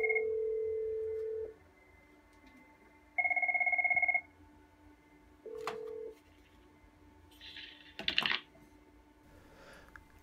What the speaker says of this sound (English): button number 2, we'll press Tony Stark, and it dials extension 1003